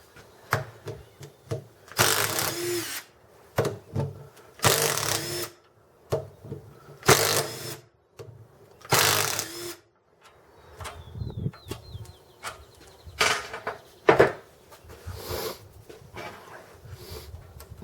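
Power tool spinning off four bolts from a cap during a mechanical teardown, heard as several short loud bursts of whirring, each a second or so long, separated by pauses with quieter clanks and handling noise.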